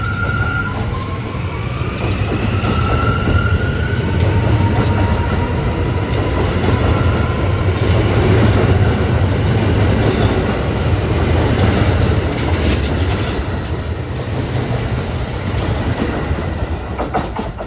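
Bombardier-built subway cars running on the rails toward Far Rockaway, a loud continuous rumble and clatter with high wheel squeals threading through, heard from inside the moving train.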